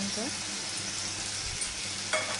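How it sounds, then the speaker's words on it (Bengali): Slit green chillies drop into a masala with a little water and fry while being stirred, giving a steady close sizzle with a few soft scraping strokes and a brief louder clatter near the end. "এবার দিয়ে দেবো চেরা দুটো লঙ্কা"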